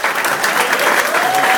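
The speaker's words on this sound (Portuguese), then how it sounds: "uma forte salva de palmas para eles" A bar audience gives a strong round of applause for a magician's helpers, loud dense clapping filling the short stretch, with a faint voice or tone underneath.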